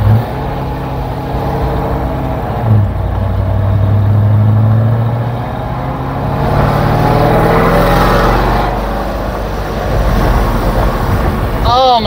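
A loud C6 widebody Corvette engine pulls in third gear, a deep, steady roar that swells and settles several times through the run, close and dominant, with no talk over it.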